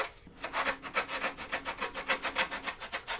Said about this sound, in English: You take this rasp and clean up in there pretty good.